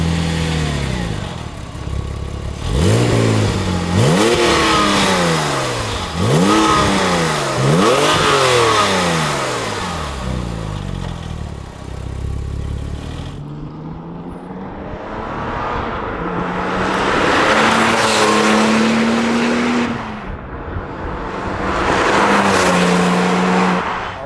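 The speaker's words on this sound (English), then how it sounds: "let's go for a drive first with the owner, Alec." A Porsche 996 Turbo engine revs hard through repeated gear-change sweeps, then roars with rising and falling acceleration, loud and close throughout.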